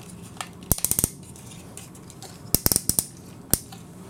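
Plastic legs of a Generation Toy GT-2 Tyrant figure being folded and turned, giving two quick runs of crisp clicking ratchet snaps and a final single click, close and distinct with no talk.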